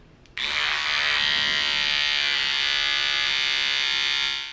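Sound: Philips Norelco Bodygroom BG2030 trimmer running

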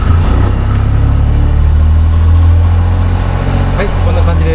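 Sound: car engine starting

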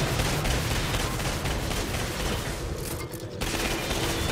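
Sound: gunfire in the video game Atomic Heart

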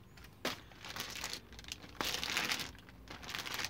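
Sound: crinkling plastic bag while unboxing Lenovo Yoga 510 laptop

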